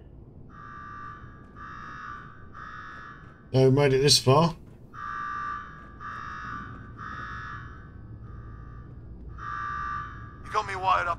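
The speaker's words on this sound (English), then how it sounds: "Now go shut off that damn alarm." A repeating electronic alarm beeps in steady pulses in Fallout 4's Nuka-World, interrupted by a voice speaking over it briefly, then the beeping resumes.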